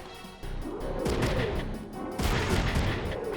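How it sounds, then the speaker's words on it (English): Enemy gunfire in a video game with a Riot Cop mecha, a dense burst of impacts and crashes that rises again partway through, loud and close with no talking over it. "He's just shooting us."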